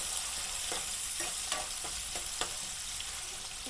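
Onions cook in a pan for a ridge gourd curry while being stirred, a soft steady sizzle with a few brief scraping strokes of a spoon against the pan.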